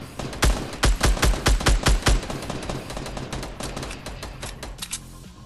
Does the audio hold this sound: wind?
no